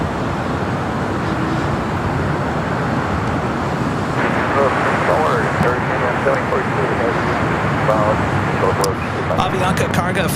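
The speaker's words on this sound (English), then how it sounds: "Avianca Cargo Flight 7042 coming in from Mexico City at A330, number 2 for arrival here on the south side" An Avianca Cargo Airbus A330 arriving at LAX from Mexico City, a steady broad roar of jet engines mixed with road traffic noise throughout, loud and continuous with a slight swell midway.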